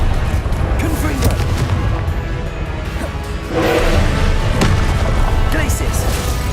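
A Confringo fire-blast spell goes off in the video game Hogwarts Legacy, a deep booming blast with rumbling explosions and whooshes over continuous game noise.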